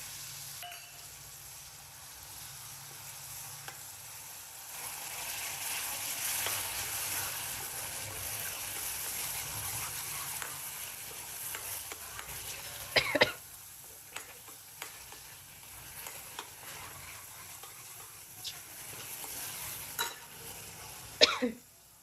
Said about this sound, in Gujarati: હવે આપણે એમાં ડુંગળી ઉમેરી દઈશું